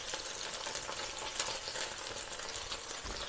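Onions sizzling and frying steadily on a hot griddle, a continuous crackling hiss held close and fairly even throughout, with no voices.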